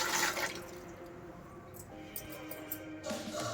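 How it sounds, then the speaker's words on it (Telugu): Water is poured quietly into starch being mixed for stiffening cotton saris, a soft trickle and splash that is stronger at the start and again near the end. "కొంచెం నీళ్ళు ఇస్తున్నాం కలపడానికి"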